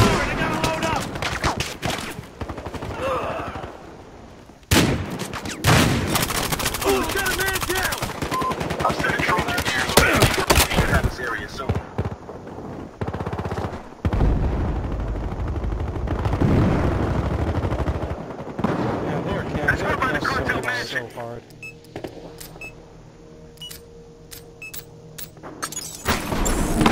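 Gunfire in the video game Battlefield Hardline during a close-quarters match, with loud sustained automatic bursts and rapid shots, sharp single cracks, brief lulls and a distant-sounding tail near the end.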